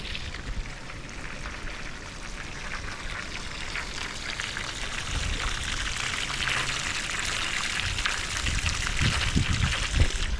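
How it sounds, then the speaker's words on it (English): Steady hiss of water from a garden hose running and splashing down a metal Rhino-Rack roof rail, continuous throughout with a few small drips and knocks near the end. "So I've got the hose set up, running right down the rail."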